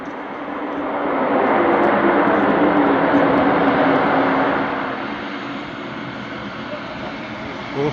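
Airplane landing, its engine and rushing roar swelling close and loud for several seconds before slowly fading and easing off.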